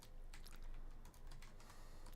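Typing on a computer keyboard while setting up a Bitcoin trading chart, a steady run of soft, close key clicks over constant background noise, with no talking.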